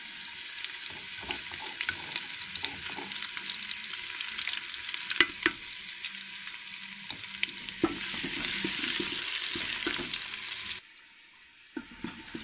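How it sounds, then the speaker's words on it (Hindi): Ginger garlic paste sizzles and crackles in hot oil, with a steady hiss broken by occasional clinks and scraping as it is stirred in the pan. "अदरक लहसुन को भी 2 मिनट के लिए भून लिए"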